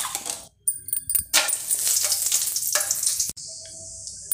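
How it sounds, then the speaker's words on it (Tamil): Whole spices, cinnamon, cloves, bay leaf and fennel, hit hot oil with a sudden, bright sizzle that crackles loudly and steadily up close, with a light clink of a utensil. "பட்டை, கிராம்பு, இலை எல்லாத்தையும் இதில் தாளிக்க போட்டுக்கலாம்."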